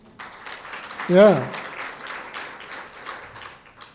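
A crowd applauds at a World Malaria Day gathering honoring Homa Bay, steady dense clapping through the whole stretch, with a man's brief spoken word over it partway through.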